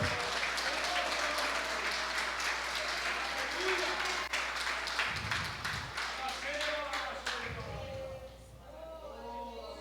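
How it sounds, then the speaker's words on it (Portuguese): A church congregation applauds steadily, dense clapping filling the space, with a preacher speaking in Portuguese over it and the clapping thinning toward the end. "Pode aplaudir o Senhor."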